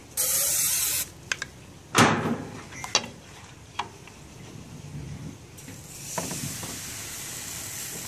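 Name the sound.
cooking oil spray on a pan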